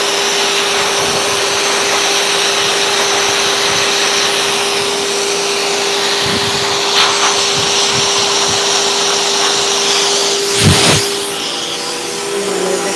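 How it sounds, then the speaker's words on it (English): A high-velocity pet dryer blows steadily while a golden retriever is being groomed, a loud, continuous roar with a constant whine, broken by a few brief bumps and shifts near the end. "Move this dryer a little bit."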